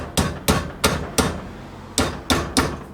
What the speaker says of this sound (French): Un petit marteau. Tiens, un petit marteau.